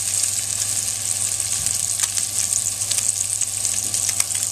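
A sea bass fillet fries skin-side down in a hot pan, a steady bright sizzle with small crackling pops, close and fairly loud over a low kitchen hum.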